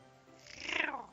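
A cat in a Doki Doki Literature Club mod gives a short, soft purring sound that swells and fades within about a second, heard alone and fairly quiet.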